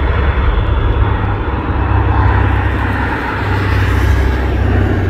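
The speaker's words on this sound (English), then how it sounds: "Next arrival at Anchorage is a super old DC-3, approximately 80 years old, still flying in" Loud, steady drone of a roughly 80-year-old DC-3 propeller airplane landing close by at Anchorage, Alaska, a dense roaring hum with a low throbbing rumble throughout.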